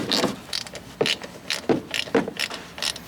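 A ratchet bolting up a wheel on a Toyota Landcruiser 120 Prado, rhythmic bursts of clicking pawl strokes, about six pulls in three seconds, close and clear with no talk.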